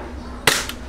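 A gas-powered Glock 17 airsoft pistol fires one crisp, snappy shot at close range, followed by a faint mechanical click as the slide cycles.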